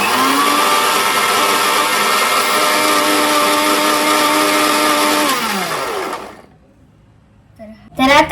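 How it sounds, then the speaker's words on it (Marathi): Mixer grinder blending an Oreo milkshake, a loud steady motor whine that winds down and stops, followed by quiet and then brief handling clatter. "आणि आता आपण त्याला लावूया मिक्सर. तर आता आपण त्याला चालू करणार आहोत."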